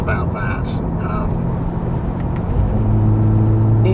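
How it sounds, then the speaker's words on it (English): A Porsche 991.1 Carrera S with the X51 Power Pack gives a short engine blip, a rumbling rev that swells near the end, under someone talking in the cabin. "Even just that little blip there, you can just hear the change in the car."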